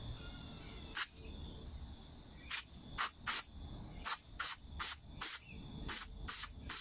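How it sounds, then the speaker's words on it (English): Carb cleaner sprayed in short hissing bursts onto a Briggs & Stratton 500E series plastic carburetor, about ten quick blasts in a loose irregular rhythm, close and fairly loud over a faint background hum. "So we have to apply the carb cleaner from this side, so it blow any dust back to the bigger"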